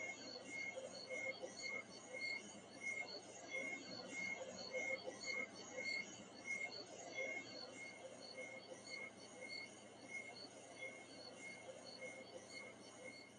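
Crickets chirp in a steady, pulsing high trill, faint and continuous, with a soft background hum throughout.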